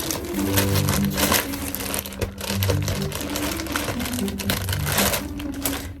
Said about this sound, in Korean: 가위로 뜯도록 하겠습니다.